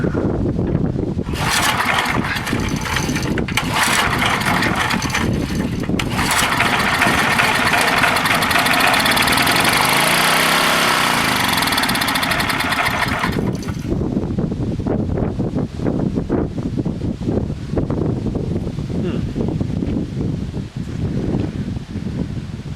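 An old 1990s Craftsman 2400-watt portable generator engine runs continuously and loud nearby, a steady droning roar with a brief shift in pitch partway through.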